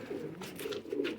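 Teddy breed pigeons coo in a short, soft burst of a few rolling, throaty calls, close by and with no one speaking.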